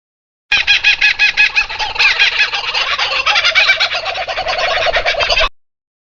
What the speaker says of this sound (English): kookaburra